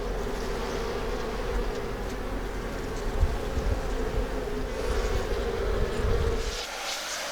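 Honey bees swarm and buzz around their hives, a dense, steady hum of many insects close by that continues throughout and drops away abruptly near the end.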